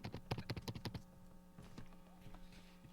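A computer keyboard clacks loudly in a rapid burst of keystrokes for about a second, then goes quiet with only a few scattered taps over a faint steady hum.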